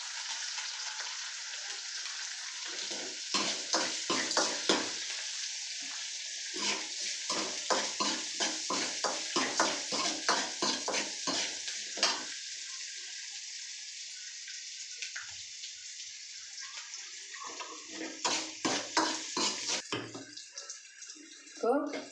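Onions sauté in a pan with salt and turmeric, giving a steady, bright sizzle with frequent crackles and stirring scrapes. A person talks over the cooking throughout.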